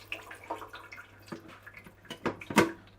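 Water trickles and drips into a Lotus filter jug, a soft irregular patter of drops that grows a little louder toward the end, close and quiet.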